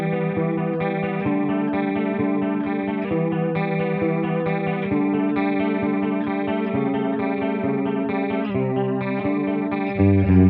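An electric guitar runs through chorus effect pedals, including an Electro-Harmonix Small Clone, playing sustained shimmering chords with a wavering, doubled tone, close and steady with no talk.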